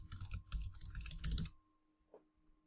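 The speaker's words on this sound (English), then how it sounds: "we're going to type in their email address here" Quick, close computer keyboard typing as an email address is entered, a dense burst of keystrokes for about a second and a half, then a single faint click in near silence.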